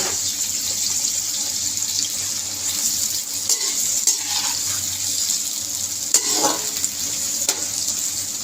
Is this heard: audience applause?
no